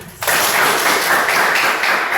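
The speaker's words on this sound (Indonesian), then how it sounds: "Iya, kasih tepuk tangan." Classroom applause from students, a burst of many hands clapping that starts abruptly and continues steadily, fairly loud and close.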